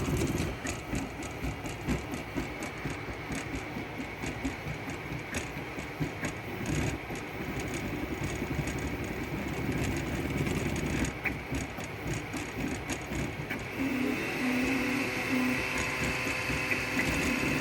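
Steady mechanical whirring and clattering of a running 3D printer, with a fan-like whine rising and settling in near the end as auxiliary cooling fans kick on.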